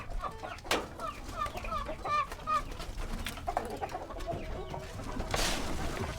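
Several laying hens cluck and murmur nearby in an irregular chatter, with a few sharper calls and some scuffling in the background.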